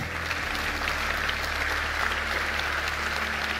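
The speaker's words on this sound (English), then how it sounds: "Big round of applause" Continuous audience applause at the European Inventor Award 2023 ceremony, a dense, even wash of clapping in a large hall with a low background hum.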